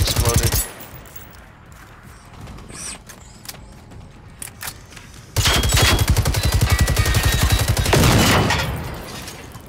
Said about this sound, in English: I'm gonna explode that one for very long distance